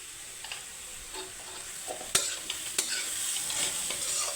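Radish and soya chunks with roasted cumin powder being stirred in a frying pan: a gentle continuous sizzle broken by scattered spoon scrapes and clicks, two sharper knocks near the middle.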